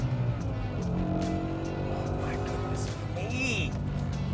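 A 2005 BMW M5 (E60) V10 engine roars continuously with a harmonic, slightly tuned exhaust note, rising and shifting in pitch as it accelerates, with voices faintly underneath.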